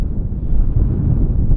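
Heavy wind on a links golf course buffets the microphone with a loud, low rumble that roars continuously, with no other sounds standing out.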